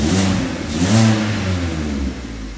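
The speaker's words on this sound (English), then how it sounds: "just thought I'd show you this Corsa though. It's the Sport Edition, because it sounds like a" Vauxhall Corsa Sport Edition engine revving loudly up and down close by, a throaty rising and falling exhaust note with no talk over it.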